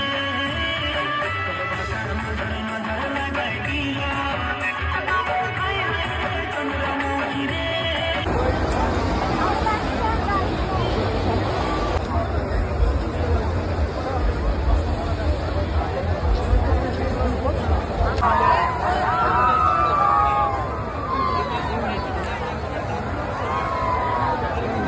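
A dense crowd murmurs at a packed, busy fair, with steady overlapping chatter and babble throughout and occasional nearer voices standing out over the continuous hubbub.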